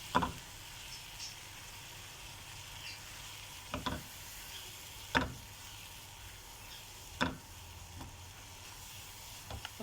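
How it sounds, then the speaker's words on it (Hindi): A milk mixture for a butter garlic egg omelette cooks over raised heat, with a quiet steady sizzle and a handful of spaced, sharp scraping strokes of a spoon against the pan. "थोड़ी सी आंच तेज़ करके तो चलाते हुए अच्छा से पकाएंगे।"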